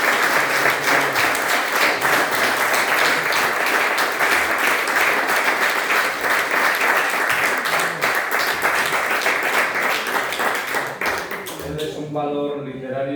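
Sustained, loud applause from an audience at a cultural talk with a journalist, a thick, even roar of clapping lasting several seconds before fading as a voice begins speaking.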